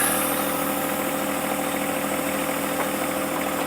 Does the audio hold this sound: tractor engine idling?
yes